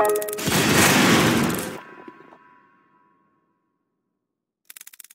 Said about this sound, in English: the new pianist cluster bomb mechanic